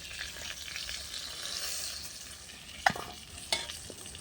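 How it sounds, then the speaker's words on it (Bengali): Pointed gourd frying in oil with salt and turmeric over a clay stove, a steady close hiss of sizzling with a couple of sharp clinks of a spatula near the end. "নুন আর হলুদ দিয়ে লাল করে পটলগুলো ভেজে নেবো"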